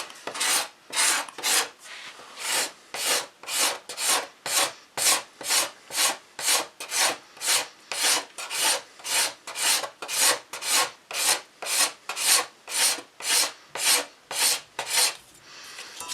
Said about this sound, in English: You can even it out with just a little bit of sandpaper.